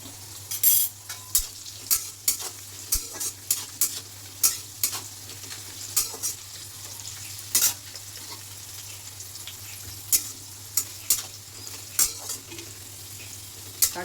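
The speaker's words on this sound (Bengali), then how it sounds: "এবার আমি গাজরগুলো ভেজে নিচ্ছি।" Carrots sizzle in a pan for fried rice while a spatula stirs them. A constant soft frying hiss runs under repeated sharp scrapes and taps at an irregular rhythm, close and clear, with no talking.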